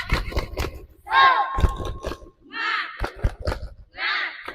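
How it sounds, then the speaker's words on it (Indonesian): A group of children shouts a rhythmic 'tepuk semangat' clapping cheer, with loud chanted bursts and sharp claps in a lively burst-and-pause pattern nearby. "sekarang kakak pimpin semuanya tepuk semangat siap?"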